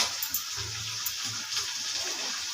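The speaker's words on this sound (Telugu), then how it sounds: "అందులో కొద్దిగా వాటర్ వచ్చాయి కదా, ఇవైతే వంపేసుకోవాలి సైడ్కి తీసుకొని." Water released by cooking chicken is tipped off to the side of the pan in a home kitchen, giving a steady, close, splashy hiss of trickling liquid that runs throughout with small surges.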